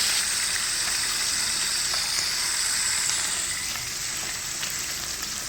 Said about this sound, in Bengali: তেলে ফ্রাই করা হচ্ছে। আমি তেলে দিয়ে দিচ্ছি এখন।